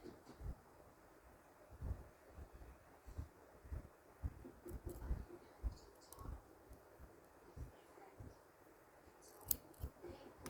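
Repeated soft snipping of scissors through crochet yarn, a quick series of close cuts over a faint background hiss.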